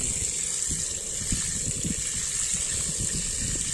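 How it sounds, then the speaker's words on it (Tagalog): Water poured into a mix of molasses, soya and grower feed for cows, a steady gushing rush with faint low splashing underneath, continuous and fairly close. "Ayan, lalagyan mo lang ng tubig."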